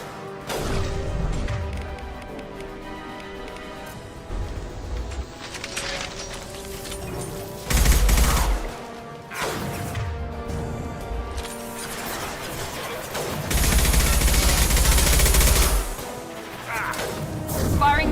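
Weapon fire in the Mass Effect 2 video game: bursts of sharp cracks and crashing impacts scattered over a busy combat soundtrack, with two heavier, louder blasts standing out partway through and near the end.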